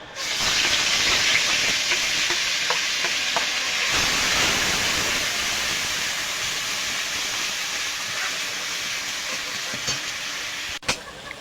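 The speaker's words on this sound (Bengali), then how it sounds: "তেলটা গরম হয়ে গেছে এবার আমি পেঁয়াজ রসুন বাটা দিয়ে দেবো" Onion and garlic paste sizzles steadily in hot oil for rohu fish kalia, a loud continuous frying hiss that stays dense and even throughout, with a brief sharp clink near the end.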